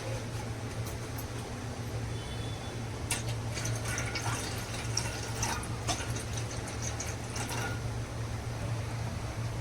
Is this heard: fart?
no